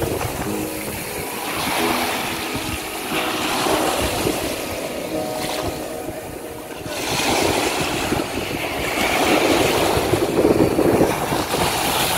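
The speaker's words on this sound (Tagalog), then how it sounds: "lakas ng alon" Strong ocean waves breaking on the beach at Patar, Bolinao, Pangasinan: a broad, roaring surf wash that swells and recedes in slow surges, mixed with wind buffeting the microphone, with no voices.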